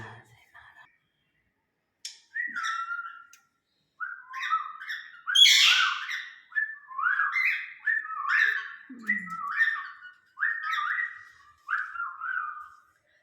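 Pet cockatiel and myna chirping indoors, a string of close, clear whistled tweets and squawky calls in short bursts with brief pauses, one louder shriek in the middle, and occasional soft murmured voices.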